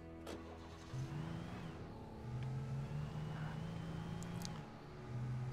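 A car engine in the video game Alan Wake hums and revs in low rising tones, fairly quiet and steady with a couple of brief higher surges.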